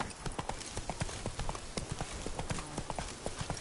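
Roach, the horse in the video game The Witcher 3, gallops in a quick, steady rhythm of hoofbeats, each clop crisp and close, running continuously without pause.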